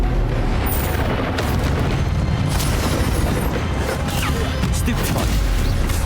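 Expelliarmus spell cast in combat in Hogwarts Legacy, heard as loud, dense booms and crackling magical blasts that fill several seconds without a pause, with possible faint voice mixed in.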